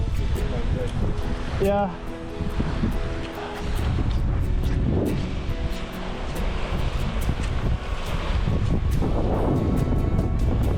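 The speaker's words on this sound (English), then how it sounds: "The wind is back." Wind gusting steadily across the microphone in Skuleskogen National Park, loud and continuous with a low roar throughout; a person briefly speaks.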